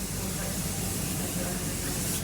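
Silicone dashboard rejuvenator spray hisses from a can in a motorcycle racing workshop, one steady, loud, close spray held without a break.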